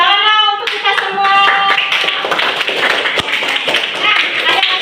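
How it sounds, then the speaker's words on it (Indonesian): Schoolchildren in a classroom clap their hands together in a burst of irregular, close claps mixed with chatter. A sustained tone rings at the start before the clapping takes over. "tepuk tangan untuk kita semua"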